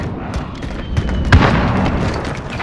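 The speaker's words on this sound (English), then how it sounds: "Enemy precision airstrike." Enemy precision airstrike explosions in Modern Warfare multiplayer: a loud boom with crackling bursts, rumbling under dense battlefield noise.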